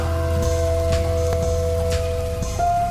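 Steady rain patters continuously over a low mechanical hum, with occasional sharper drips standing out.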